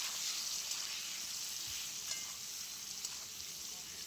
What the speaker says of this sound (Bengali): খুব ভালো করে নাড়াচাড়া করে আলুটা আমি লাল লাল করে ভেজে নেব।